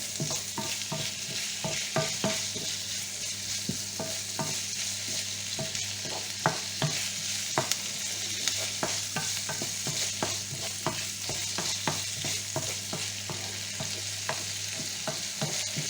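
Lardons, small bacon pieces, frying in a pan, a steady close sizzle broken by frequent clicks and scrapes of stirring, with no talk.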